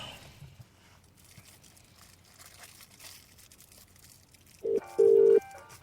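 Faint rustling and background hiss, then a couple of short electronic tones near the end, like a mobile phone dialing a number.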